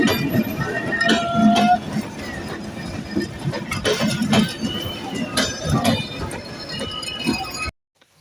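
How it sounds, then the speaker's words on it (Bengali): A train passes Bheramara railway station with clanking and rumbling wagons, loud and near, under someone talking in the open. "এটা ভেড়ামারা রেল স্টেশন আমরা এই তো স্টেশনে যে ধারে পৌঁছালাম আর তখন দেখছি যে হচ্ছে ট্রেন যাচ্ছে"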